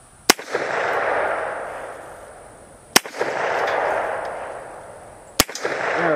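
Three sharp gunshots from a FEG PA63 9x18 Makarov pistol at an outdoor range crack out a couple of seconds apart, each followed by a long, fading rumble of echo.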